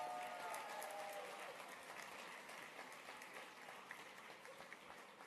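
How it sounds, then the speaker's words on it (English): Steady audience applause for gubernatorial candidates at a Delaware general election event, a dense continuous clatter of many hands that holds evenly for several seconds and tapers only slightly. "Give them all a round of applause."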